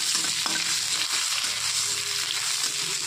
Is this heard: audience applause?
no